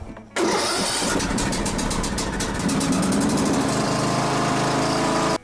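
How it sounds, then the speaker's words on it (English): A lawn mower engine catches abruptly and runs with a steady, close, buzzing drone for several seconds before cutting off sharply. "I need this trusty lawnmower to work one more time for the year"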